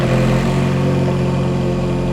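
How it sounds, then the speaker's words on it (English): A Ferrari F430 engine idling after an oil change, running steady and loud with a constant low rumble and no change in pitch, close by, with no voices. "so now we're gonna fire it up and let it warm up."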